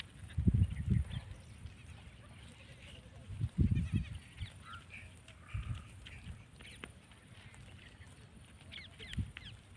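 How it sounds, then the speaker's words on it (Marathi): Goats grazing outdoors on a farm, with a few scattered bleats rising over a quiet field background and faint rustling. "आणि इकडे शेळ्या चरत आहेत."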